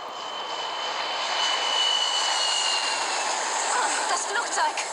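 Airplane engine in Resident Evil Revelations, a steady broad roar with a faint whining tone on top, holding at a constant level for several seconds and heard alone.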